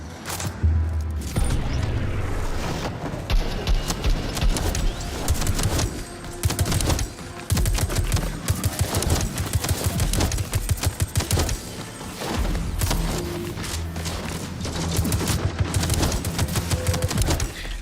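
Rapid, relentless SMG bursts from the video game Metal Eden, loud and close, with dense automatic fire running almost continuously and only brief gaps between volleys.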